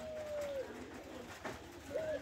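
Pigeons coo softly in a loft during rain, with low rolling calls over a steady background hiss of falling water.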